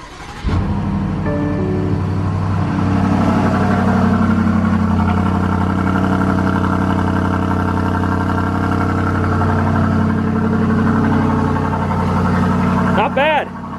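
A 2020 BMW X6 M50i V8 starts cold with a starter whir and a sharp revving flare, then settles into a steady, deep, loud idle rumble with sporty exhaust tone, a faint voice briefly heard near the end.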